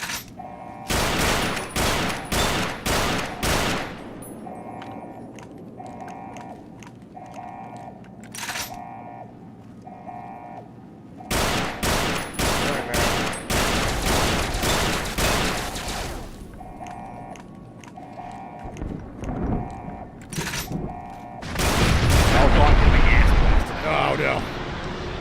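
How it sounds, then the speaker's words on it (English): A missile barrage in Fallout New Vegas lands as rapid bursts of loud blasts in clustered volleys, with quieter gaps between them and a heavier rumbling surge near the end. "I wasn't expecting the missile barrage."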